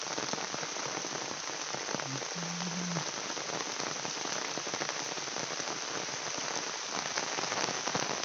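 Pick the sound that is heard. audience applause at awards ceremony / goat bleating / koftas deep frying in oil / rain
rain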